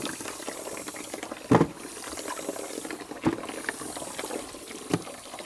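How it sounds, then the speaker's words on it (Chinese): Water bubbling at a boil while washed pork bones blanch in a home kitchen, a continuous gurgling hiss with a few louder bursts of bubbling standing out, fairly close and with no voices. "骨头洗干净了哈，给它焯下水。"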